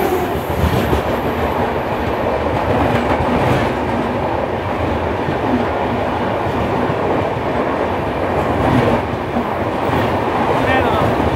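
The Howrah–Pune Duronto Express rushes past, giving a loud, steady, broadband rail roar with rhythmic clickety-clack of wheels over joints that continues without a break.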